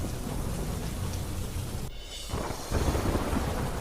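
Heavy rain pours in a dense, loud roar, briefly dropping away for a moment before surging back even stronger.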